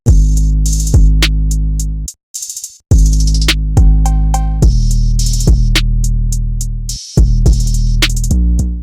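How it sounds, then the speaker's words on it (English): A dense trap-style drum beat with rapid hi-hat rolls, booming bass kicks and bright cowbell hits, loud and continuous with a brief dropout. "I made this drum pattern with a lot of hi-hat rolls and some cowbells"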